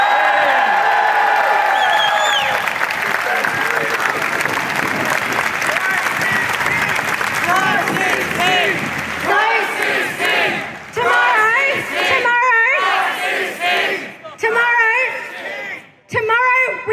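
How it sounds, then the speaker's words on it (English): A large crowd at an NSW protest rally against an abortion bill roars with sustained cheering, clapping and shouted whoops that swell loudly and then break into scattered bursts. "Let's give one big more cheer for life and to reject this bill."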